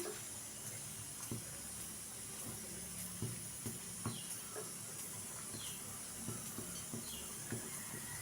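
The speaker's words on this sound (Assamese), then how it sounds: "এয়া দেখিছে মাছৰ জোলটো ধুনীয়াকৈ উতলি আছে।" Rohu fish curry with ridge gourd boiling in a pot, giving a faint, steady hiss of simmering liquid broken by small soft pops, heard alone.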